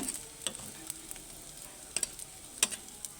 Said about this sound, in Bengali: মাছের ডিমগুলো এবার ভেজে নেব